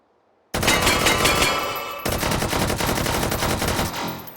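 An AK-12 rifle with a collapsible, foldable stock fires 5.45x39 Soviet rounds in sustained full-auto bursts. The loud, close, rapid reports start after a short silence, pause briefly, then continue and tail off.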